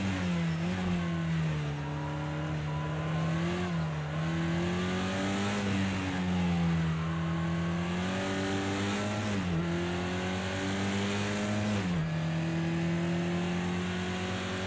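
A turbocharged Porsche 924 racing around the Imola circuit in Project Cars 2, its engine droning steadily at high revs with repeated rising pulls through the gears and brief dips between them, loud and close for the whole stretch.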